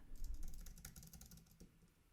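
Quick bursts of typing on a computer keyboard during a React and Tailwind CSS coding session, close and fairly quiet, with rapid irregular clicks and no talking.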